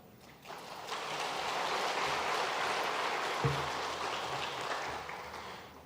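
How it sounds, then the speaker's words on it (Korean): A church congregation applauds during a Sunday service, a soft, distant, rain-like patter of many hands rising gradually, holding steady, then tapering off. "우리 박수하며 위로하시겠습니다"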